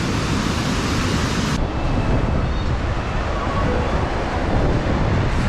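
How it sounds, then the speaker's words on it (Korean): A waterfall beside a walking path that smells of sulfur hot springs gives off a loud, constant, broadband rushing roar that fills the whole stretch, with a slight shift in tone partway through. "저쪽에 보니까 폭포가 저렇게 떨어지고 있습니다"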